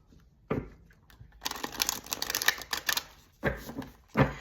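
Tarot cards are shuffled up close, a riffling flutter of papery flicks and taps in a couple of bursts separated by brief pauses.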